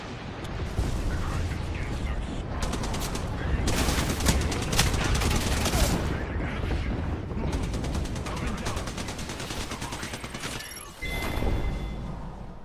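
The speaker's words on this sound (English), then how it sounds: "Signaling an airstrike." Video game airstrike with continuous loud gunfire and booming explosions, dense and unbroken, a brief lull near the end before another burst, with a voice talking underneath.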